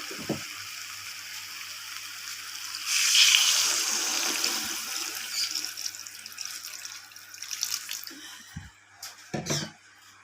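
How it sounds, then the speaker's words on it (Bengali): Water added to a pan of soybean curry with potato and pointed gourd gives a soft, fairly faint pouring and splashing wash that swells for a few seconds, then trails off into light clinks. "এর মধ্যে আমি জল অ্যাড করে দেবো"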